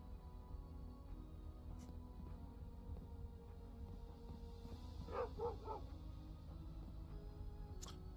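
Several dogs bark a few times, faint and distant, in a short cluster over a steady low hum of background noise.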